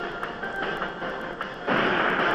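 A tank firing in the Drive Ahead video game, a series of repeated sharp blasts at a fairly regular rhythm, followed by a louder, denser burst of noise near the end, with no talking.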